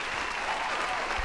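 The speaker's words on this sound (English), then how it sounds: "The passengers erupted with cheer." Passengers aboard a train cheer and applaud together in a steady, dense burst of crowd noise that holds at an even level for the whole moment, with no single voice standing out.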